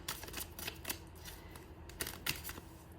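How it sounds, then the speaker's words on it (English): A Wisdom of the Oracle card deck is shuffled close up, a steady run of quick papery riffles and flicks with a couple of sharper snaps, no talking. "So let's shuffle my wisdom of the oracle deck."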